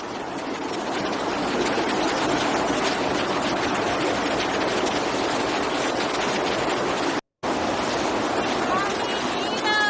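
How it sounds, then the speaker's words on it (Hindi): Floodwater rushes loudly through the streets of Santa Marta, Colombia, a constant heavy roar of churning water that runs unbroken apart from one brief cut. "तेज रफ्तार से घरों के बाहर बहता दिखा पानी।"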